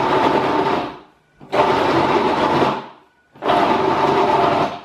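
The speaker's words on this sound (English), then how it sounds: "Add 3 egg yolks to the blender, and then pulse the mixture until it forms a dough" A blender pulses a crumbly mixture with three egg yolks into tart dough for mini tartes tatin: three loud, rough bursts of about a second each, separated by brief near-silent pauses, with no talking.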